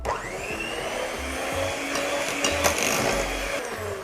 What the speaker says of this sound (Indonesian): Jadi kita aduknya di low speed, tapi yang bentar aja, asal nyampur doang.